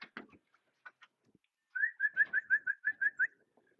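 Pigeons call with a quick run of about nine evenly spaced whistling notes, preceded by a few scattered softer chirps and clicks, fairly close in a quiet space.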